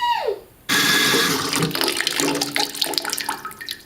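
Kitchen tap water gushes suddenly into a pasta pot after a brief quiet moment, a loud, steady splashing stream that slowly changes in tone as the pot fills.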